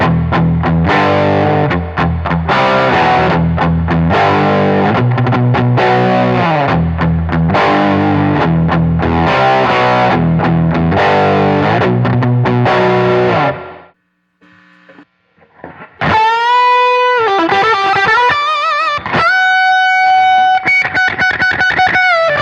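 A Les Paul electric guitar through a Fender Hot Rod amplifier's overdrive channel plays loud, thick distorted chords for about fourteen seconds, falls briefly silent, then rings out sustained, bending single notes.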